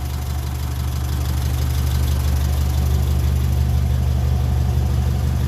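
A 1957 Ferguson 35 tractor running on TVO, its warm engine idling steadily with a low, even throb and faint mechanical rattle, close and continuous throughout.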